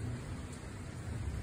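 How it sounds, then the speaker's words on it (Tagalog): Heavy rain during a thunderstorm in hot weather, a dense steady hiss of rainfall with a low rumble underneath, brief and fairly soft. "Lakas ng kulog kidlat, no?"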